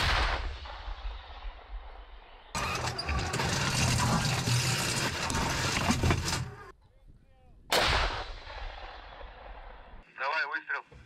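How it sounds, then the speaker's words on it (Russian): A tank cannon fires with heavy, booming blasts and a long rumbling roar, loud and close, followed by a sharp second shot, with crew voices and radio chatter around it. "Выстрел."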